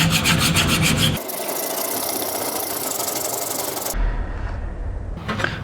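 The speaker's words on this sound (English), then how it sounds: "This is the one that we are going to use for draw filing." A mill bastard file draws across the face of a metal garden trowel, a steady rasping scrape that fills the clip up close, with a louder burst at the start and a brief stroke near the end.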